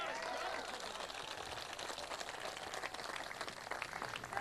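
An audience at a Paul Ryan political speech breaks into scattered clapping, a dense, fairly faint patter of hands that carries on steadily for several seconds, heard from a distance across the room.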